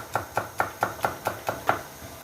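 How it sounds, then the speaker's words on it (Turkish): A knife chops garlic on a board in eight quick, evenly spaced strikes, crisp and close, with no voices. "Sarımsaklarımızı doğruyoruz."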